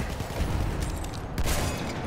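Frommer Stop automatic pistol from Battlefield 1 firing in dense rapid bursts, a loud, near clatter of shots that swells again toward the end, with no speech over it.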